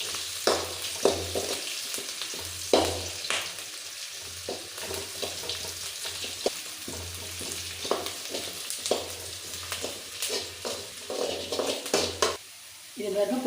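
Vadagam and sliced onions fry in hot oil for a South Indian fish curry, a close, continuous sizzle punctuated by repeated scraping stirs and brief bursts of crackling throughout.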